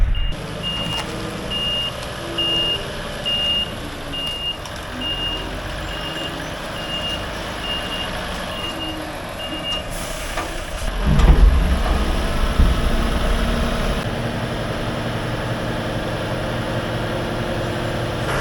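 A truck reversing under a baler bin sounds a steady repeating series of high reversing beeps over a low diesel rumble, with a louder engine surge and hiss partway through and no talk.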